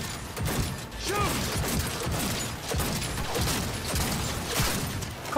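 Video game gunfire in Cyberpunk 2077: steady, close rapid shots mixed with mechanical clanks and weapon handling noises, holding a dense rhythm throughout without clear pauses.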